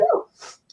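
A single short, sharp sneeze close by, followed by a brief breathy exhale and a tiny click.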